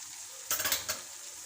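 Capsicum and onion stir-frying for restaurant-style Schezwan fried rice: a soft background sizzle broken by a short burst of spatula scrapes and tossing, then a quick final clatter.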